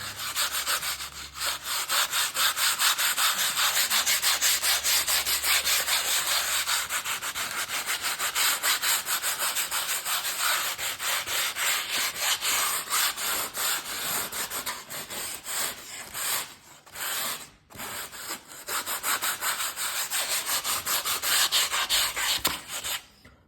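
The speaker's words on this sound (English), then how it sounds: "one more thing that I would like to do here, I will use a sandpaper" Sandpaper rubbed over a sketched oil-painting canvas for a still life gives a close, continuous rasping scrape in quick back-and-forth strokes, briefly pausing near the end, with no talking.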